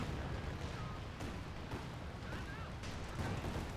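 Land Mattress rocket artillery in Company of Heroes 2 fires in a dense, continuous barrage of booming launches and blasts, loud and steady throughout, with a commentator's voice mixed into the din.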